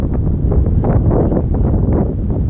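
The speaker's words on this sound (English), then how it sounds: "I think the wind wants to talk here" Wind blowing outdoors, a steady loud low rumble of gusts buffeting the microphone, continuous and unbroken for the whole stretch, with no voices.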